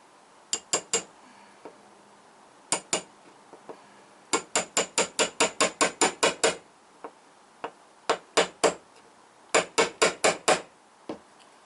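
Sharp metallic hammer taps on a model railway track pin in quick bursts of several strikes each, separated by short pauses, close and clear with no talking.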